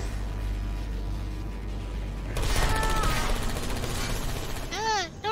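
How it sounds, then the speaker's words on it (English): Rapid bursts of turret gunfire rattle through a busy Portal 2 game scene, mixed with a raised voice and other loud effects. "I heard gunfire!"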